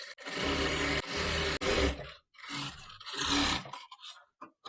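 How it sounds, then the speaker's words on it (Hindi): A sewing machine stitches samosa lace onto an Angrakha Anarkali, running in loud close bursts of rapid mechanical chatter separated by brief pauses, ending in a few short clicks. "अब यहाँ पे मैं सिलाई लगाऊंगी समोसा वाली लेस पे"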